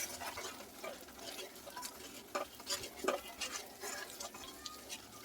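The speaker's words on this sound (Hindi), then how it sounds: "इसे अच्छी तरह से चलाइए।" Ginger-garlic paste for matar paneer is stirred in a hot pan, with scraping strokes over a soft, steady sizzle; no one speaks.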